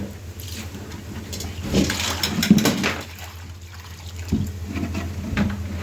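Water poured into a pot over fried soi fish to cover them before boiling, a close, steady splashing pour with a few sloshing surges and no talk.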